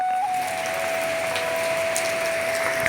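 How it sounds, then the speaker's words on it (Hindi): Heavy rain falling outside, a loud steady hiss that fills the background throughout, with a thin sustained whistling tone running beneath it. "ये आवाज़ बारिश की है।"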